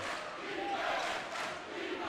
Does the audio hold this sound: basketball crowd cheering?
yes